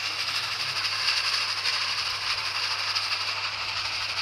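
A train in the Roblox video game, a steady hissing and rattling rail rumble with a low hum, continuous and moderately loud.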